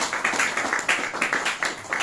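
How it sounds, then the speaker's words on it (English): A crowd applauds at a courtesy visit to a royal palace, a steady patter of many hands clapping with rhythmic bursts, close and continuous throughout. "Please can we clap for him?"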